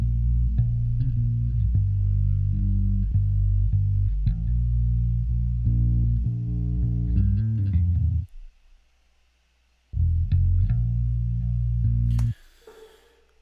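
A processed electric bass line from a song thumps out repeated low notes in a steady pulse, then drops to silence for a beat before returning, loud and close with no voices.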